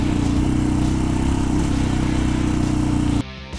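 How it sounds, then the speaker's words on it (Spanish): A TVS 310 street motorcycle ridden off-road on a dirt trail, its engine droning loud and steady close up before cutting off abruptly near the end. "Moto de pista en terracería."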